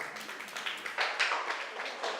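Scattered clapping from a small group in a presentation class, soft, fairly close hand claps forming a short, light round of applause with no talking over it.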